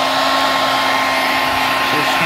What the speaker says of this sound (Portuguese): Eu vou esquentar ela aqui com um secador de cabelo.